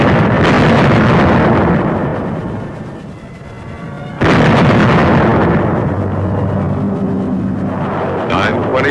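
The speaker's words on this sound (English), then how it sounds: "camouflaged 105 howitzers on gun carriages opened up with a bombardment" Booming, sustained artillery barrage from camouflaged 105 mm howitzers on gun carriages in wartime Italy, with heavy rumbling blasts that swell, ease off and return with a sudden loud onset, dense and continuous.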